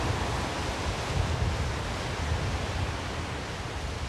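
Water from an artificial sewage outfall pours as a cascade down the coast of the Sierra Helada natural park near Benidorm, a steady, dense rushing roar that holds without a break from start to finish.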